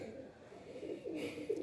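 A blue pigeon coos softly, a low rolling murmur that swells and fades twice, faint and close, with quiet background rustle.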